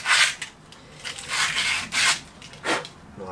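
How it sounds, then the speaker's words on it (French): A stiff brush scrubs a Peugeot 407 front driveshaft in short, close rasping strokes, several separate bursts of scratchy scraping with brief pauses between them. "Et un petit coup de brosse, histoire de fignoler"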